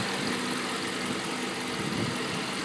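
A 2012 Dodge Charger SRT-8 Super Bee with its 392 Hemi pushrod V8 idles smoothly and evenly, a constant low hum that stays level throughout with nobody speaking.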